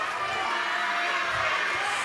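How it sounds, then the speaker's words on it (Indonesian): Audience at the second Tegal 2024 mayoral and deputy mayoral candidate debate applauding and cheering the three mayoral candidates, a steady wash of clapping and crowd noise at moderate distance. "kita berikan tepuk tangan untuk ketiga calon wali kota"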